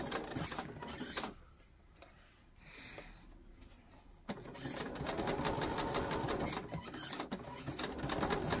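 A sewing machine runs in short bursts, backstitching a seam on 18th-century fall front trousers, with rapid mechanical clatter, a pause of quieter handling, then a longer steady stitching run close by.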